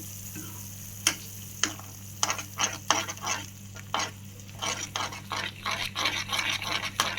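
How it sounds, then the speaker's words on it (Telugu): Semolina being stirred into boiling water in a pot while making upma, giving irregular scraping and knocking strokes of a spoon against the pan over a faint simmering hiss, close up with no talking. "సో ఇలా కలుపుతూ బొంబాయి రవ్వ వేసుకోవాలి, లేదంటే ఉండలు వచ్చేస్తుంది."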